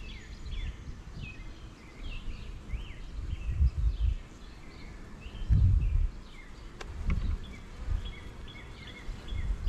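Honeybees buzzing around an open hive on a warm day, a faint low hum of wings drifting near and far, with scattered birdsong chirping in the background.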